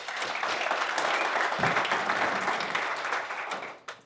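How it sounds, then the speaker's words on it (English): A round of applause at a Carolina Blaze softball press conference in Durham, North Carolina, with a roomful of people clapping steadily before it thins and fades out at the end. "Let's give them a round of applause"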